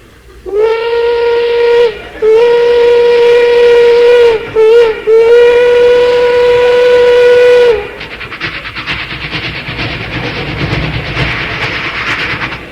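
A voice imitates a distant steam train whistle, two long tonal wails broken by brief dips, then slides into a rhythmic chugging, clattering rail noise, loud and alone.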